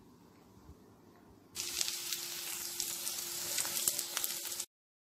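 Thinly sliced garlic hits a hot pan for an egg snack and erupts into a loud, steady sizzle after a brief quiet start, crackling close up until it cuts off abruptly.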